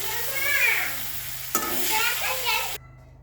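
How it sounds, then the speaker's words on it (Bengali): Potatoes sizzle and spit steadily in hot oil that was just used to fry fish, with a stirring scrape near the middle and a loud continuous hiss until it cuts off abruptly. "আমি একই তেলে আলুগুলো ভেজে নেব"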